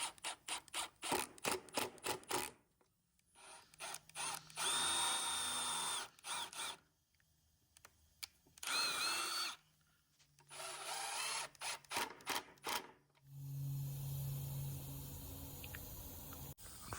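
Power drill countersinking holes for 1.25-inch flathead wood screws in a car center console build, sounding as several close, loud whirring bursts separated by short pauses, with one longer run near the end.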